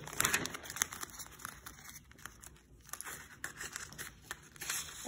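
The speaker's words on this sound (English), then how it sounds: "I take some of this plastic and I just cut it into strips" A plastic sheet is cut into strips for masking while sign painting, with steady close crinkling, rustling and short tearing snips that come in irregular bursts.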